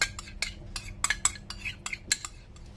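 Bean sprout salad being tossed with sauce, with a run of light, irregular clinks and scrapes of a utensil against a dish as the sprouts are mixed, close and fairly quiet.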